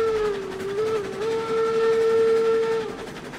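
A steam locomotive in the game RailRoads Online labors up a hill with no regulator, its sustained whistle-like tone holding steady and loud over a low rumble for about three seconds.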